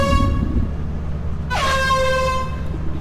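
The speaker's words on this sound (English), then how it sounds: "Four honks." A loud, blaring ship-style horn sounds in the video game Lethal Company. One long, droning blast gives way to a second that swells in and sags slightly in pitch before holding, all over a low rumbling hum.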